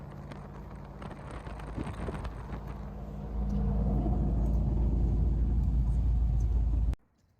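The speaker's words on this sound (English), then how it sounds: "Just some of the cool back road driving we did as we drove through Arizona." A car driving on back roads through Arizona, heard as a steady low rumble of tires and engine with wind buffeting the microphone, growing louder and rougher about halfway through before cutting off abruptly.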